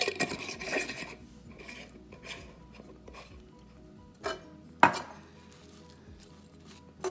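Cabbage being stirred and pushed around a pan to coat it in ghee gives scraping, rubbing kitchen noises with a few sharper utensil knocks against the pan, moderately quiet and with no talking.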